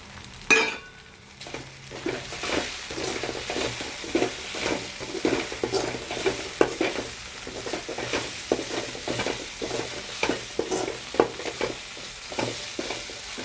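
Idli pieces are stirred and fried in a pan with mutton masala, pepper powder and curry masala powder. A spatula scrapes in a steady rhythm over a soft sizzle, with a sharp clank near the start and occasional metal clinks.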